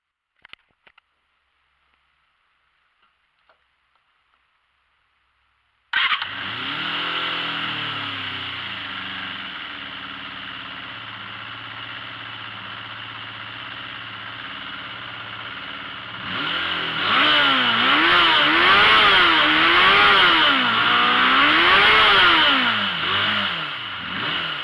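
A Suzuki Across motorcycle with a newly installed carburettor starts after a few faint clicks and settles into a steady idle. It then revs repeatedly in rising and falling waves, loud and close.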